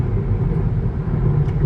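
Steady low road roar fills a Hyundai Ioniq 6 SEL cabin at highway speed on rough ribbed concrete, a constant droning rumble with no pauses and no voices.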